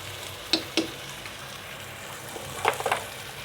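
Rice is stirred with oil in a pot for beef biryani: a few sharp scraping clinks of the spoon near the start and a cluster near the end, over a low sizzling background.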